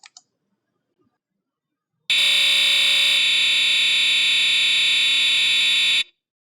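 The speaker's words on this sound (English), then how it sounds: "So that nasty noise is what's recorded on the cassette player." A harsh, steady buzzing data tone plays from a KIM-1 computer cassette interface recording. It starts abruptly after a near-silent gap, holds loud for about four seconds with a slight shift partway through, then cuts off.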